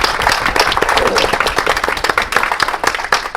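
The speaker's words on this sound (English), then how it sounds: "Round of applause for our candidates." Audience applause after a Democratic primary debate for Texas House District 108, a dense, steady wash of many hands clapping close by throughout.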